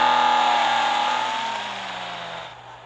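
A 1975 BMW 3.0 CSL in Real Racing 3 holds a loud, steady engine rev with a smooth tonal drone that slowly drops in pitch and fades, heard alone.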